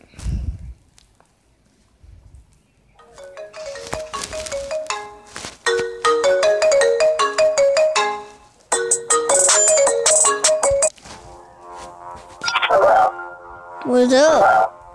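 A phone ringtone rings in repeated bursts for a prank call, loud and close, with a dog barking and footsteps early on and voices talking between rings.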